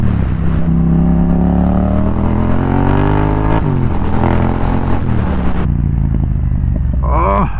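A Yamaha XSR700 motorcycle fitted with an Akrapovic carbon full-system exhaust revs loudly and close, its pitch climbing and falling through several blips before the engine settles back toward idle.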